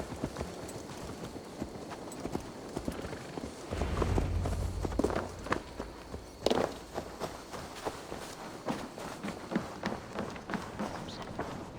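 Horse hooves clip-clop in Assassin's Creed Valhalla, a steady run of hoofbeats that speeds into a louder trot midway with some thuds, then settles back to a quicker walking rhythm.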